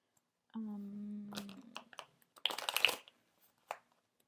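Tarot cards are shuffled in a brief, soft riffling burst of quick papery flicks near the microphone, preceded by a short hummed voice and followed by a faint tap.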